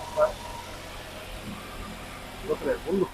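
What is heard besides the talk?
1983 Ford Fiesta XR2 engine idling after start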